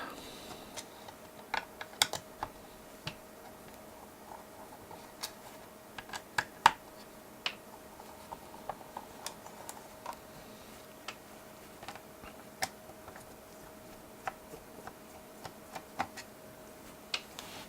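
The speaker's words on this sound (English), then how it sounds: "So I'm just going to take off the 4 screws on top." Small screws are undone from the top of a GTX 580 video card, sparse faint clicks and ticks scattered irregularly over a quiet background for a long stretch.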